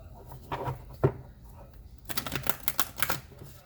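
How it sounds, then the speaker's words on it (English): Crisp riffling and snapping of a deck of cards being shuffled for a tarot reading, two quick bursts separated by a brief pause, close up with no talking. "One more shuffle"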